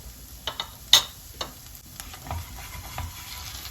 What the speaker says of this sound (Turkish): şöyle kokusu çıkana kadar kavuruyorum